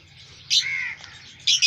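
Pet lovebirds in a breeding setup give a few sharp, close chirps and short calls in quick bursts, with quiet gaps between them.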